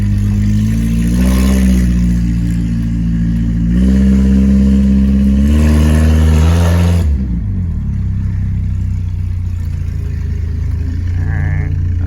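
A 1983 Volvo 242 engine with an AW-70 automatic transmission runs loud and close, revving up in three rising surges before settling to a steady lower drone.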